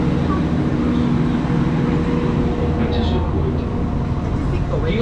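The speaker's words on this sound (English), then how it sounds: "We're at the train station, Betws-Y-Coed, and we're going to Llandudno." Ambient sound of the train station at Betws-y-Coed, Wales: a continuous low mechanical rumble like an idling train, with faint higher noises over the steady drone.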